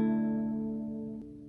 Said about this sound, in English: So what I want you to do is take away your middle finger from this chord shape.